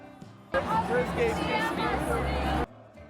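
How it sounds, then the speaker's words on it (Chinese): Crowd of football fans streaming out of a World Cup stadium exit after an Egypt match, a dense close babble of many voices rising abruptly and holding steady for about two seconds before cutting off. "这是体育场的出口，我们跟着人流往前走。"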